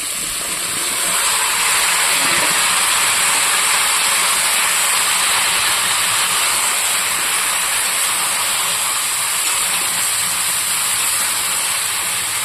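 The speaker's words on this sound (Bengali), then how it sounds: "সবজি দিয়ে বেশ খানিকক্ষণ ভাজবো" Vegetables frying with crab in a pan for a bottle gourd and crab dish, giving a loud, steady, broadband hiss of sizzling that holds without a break.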